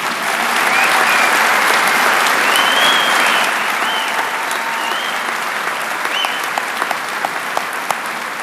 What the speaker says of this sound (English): Please join me in honoring these students with a round of applause.